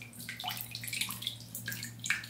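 Water splashes and drips in a bath as a baby is washed, in an animated cartoon scene; the light, irregular sloshing and dripping carries on steadily at low volume with no talking.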